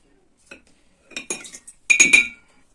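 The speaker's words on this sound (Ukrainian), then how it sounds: "І нам треба цю водичку солею розколотити, щоб сіль розтворилася" A metal spoon clinks and scrapes against the inside of a glass jar of salt water in quick bursts of stirring, close and bright, with short pauses between.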